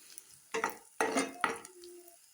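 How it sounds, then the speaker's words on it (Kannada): Onions and green chillies with turmeric and chilli powder are stirred in a hot pan, giving three or four close scraping, sizzling strokes separated by short quiet gaps. "ಸ್ವಲ್ಪ ಅರಿಶಿನ, ಒಂದು ಚಿಕ್ಕ ಸ್ಪೂನಲ್ಲಿ ಚಿಲ್ಲಿ ಪೌಡ್ರ್ ಹಾಕ್ಕೊಂಡು ಫ್ರೈ ಮಾಡ್ಕೊಳ್ತಾ ಇದ್ದೀನಿ"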